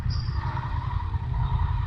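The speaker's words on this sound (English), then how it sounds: "Loud pipes are loud. Hey, it's a Rebel." A steady low motor rumble with a throaty tone from loud exhaust pipes holds throughout, close and fairly loud, as a Honda Rebel motorcycle goes by.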